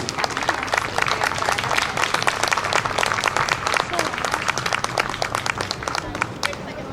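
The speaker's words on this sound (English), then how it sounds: "A round of applause for our veterans," A crowd lining a Memorial Day parade route in Princeton, New Jersey applauds veterans: dense, steady clapping from many hands, close and loud throughout, with voices mixed in.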